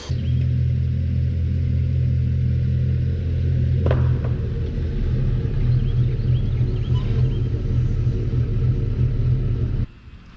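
Lifted Ford F150 with a 6-inch Superlift kit rumbles as it is driven out of the shop, a steady low engine drone with a brief mechanical clunk partway through, stopping abruptly near the end.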